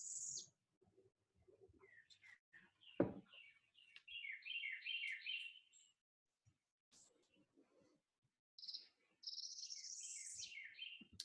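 A recorded small songbird sings two clear, high phrases that climb and then drop abruptly, with a brief thump between them and faint chirps from another bird in the quiet gaps.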